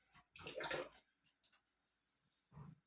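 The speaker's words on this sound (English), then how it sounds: "Wash my hands again, wash my knife." Running tap water splashes as hands and a blue-handled kitchen knife are rinsed while fried rice is prepared, heard as a close, fairly soft burst of gushing water, then a pause and a second shorter splash.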